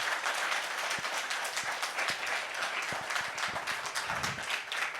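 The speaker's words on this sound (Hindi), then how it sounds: "जोर से ताली बजाएंगे अगर समझ रहे हैं।" A church congregation claps loudly together, a dense, steady wash of hands through the whole stretch with no talking over it.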